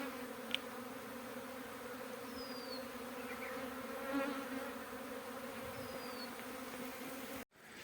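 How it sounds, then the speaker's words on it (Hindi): Honeybees hum in a steady, continuous drone as they move toward a hive box, fairly faint and even throughout, with a sharp click near the end. "अब मधुमक्खी जो है उस बॉक्स की तरफ जा रही है।"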